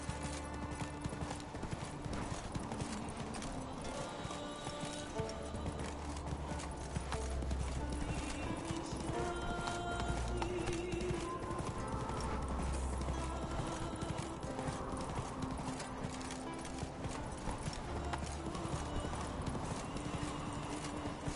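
A horse gallops in The Witcher 3 with steady rapid hoof clip-clop throughout and occasional faint whinnies, over a constant game ambience and music bed.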